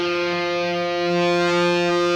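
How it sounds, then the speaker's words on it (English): A sustained, buzzing electric tone with gritty overdrive distortion from a GarageBand for iOS plugin, held steady and loud with no voices. "So you can actually add extra distortion"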